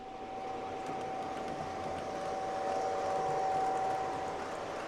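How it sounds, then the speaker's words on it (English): O gauge model trains run along a modular club layout with a tunnel and campground scene, giving a steady, moderate rumble with a faint whine, no talking. "You can watch the trains go by."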